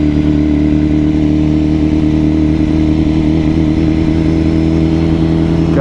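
A BMW superbike engine runs loud and steady at close range, holding a droning rev with a rough clatter for several seconds and no break in the sound.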